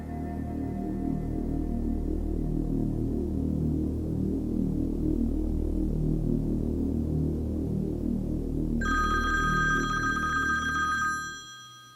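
A telephone rings as a call is being placed: a steady electronic ringing tone over a continuous low hum, with a brighter tone entering near the end before everything cuts off.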